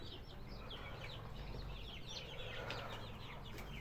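A flock of young Andijan chickens, some about 25 days old and others past a month, clucks and peeps in a busy overlapping chorus over a steady low farmyard hum.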